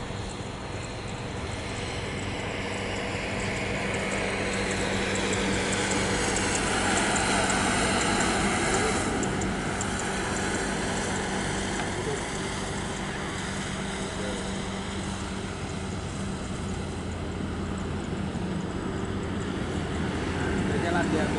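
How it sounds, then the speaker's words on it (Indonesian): A Garuda Indonesia airliner rumbles at Blang Bintang airport in Aceh Besar, a loud, broad, steady jet roar that swells slightly mid-clip, heard from outdoors while people talk nearby. "Lihat sana tuh pesawat tuh."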